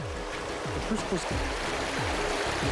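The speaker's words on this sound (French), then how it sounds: "il y a le guier vif qui coule, qui sort là de 3 grandes sources" Continuous rushing flow of the Guiers Vif river in Savoie near its springs, a steady broadband water roar close by, with faint low rumbling underneath.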